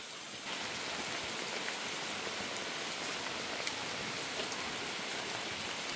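Steady heavy rain pours down outside a house in the Philippines during Typhoon Kristine, a dense continuous hiss at moderate distance with no voices.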